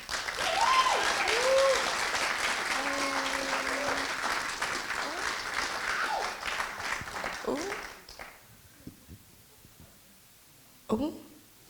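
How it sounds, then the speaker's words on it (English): A large audience gives sustained applause for the boys of Kingsford Community School, with people talking over the clapping before it dies away into near silence, then a brief burst of sound near the end. "could you please give a big round of applause for the boys from the Kingsford Community School?"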